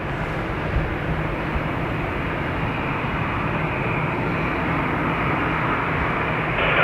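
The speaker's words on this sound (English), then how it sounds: "The Ryanair coming in." A Ryanair airliner on approach to Dublin Airport gives off a steady, broad jet roar that holds at an even level throughout, with no voices over it.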